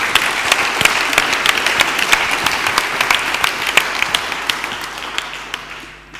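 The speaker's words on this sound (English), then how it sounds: "So I'd like to give them a round of applause." A congress audience in Tallinn gives a round of applause for the speakers, a full, loud and even clapping that carries on for several seconds and gradually fades toward the end.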